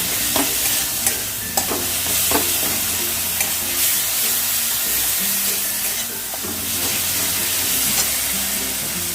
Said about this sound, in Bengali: মাছটা আমি কয়েক সেকেন্ড নাড়াচাড়া করে এর মধ্যে আমি জল দিয়ে দেবো